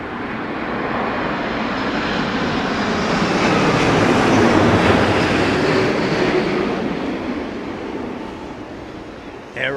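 A Boeing 787 Dreamliner landing at Heathrow in stormy wind gives a loud, broad jet roar that swells to a peak and slowly fades as it passes, steady and continuous, with wind buffeting the microphone.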